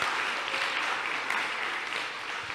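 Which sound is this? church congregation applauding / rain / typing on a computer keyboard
church congregation applauding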